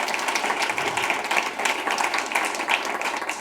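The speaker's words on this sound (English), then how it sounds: "can we please get a round of applause for our two speakers" An audience claps for two speakers after a talk on the cannabis and hemp industry, producing steady, dense applause that holds at an even level throughout, with no voices over it.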